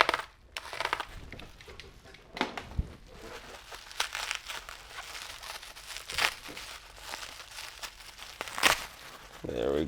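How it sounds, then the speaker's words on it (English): A box cutter slicing into a bubble-wrapped package holding figures, with scattered crinkles, scrapes and tearing of plastic wrap, close and moderately loud, mixed with a voice talking. "we will get the box cutter out. Now, right along this edge, we'll want to just carefully cut into it."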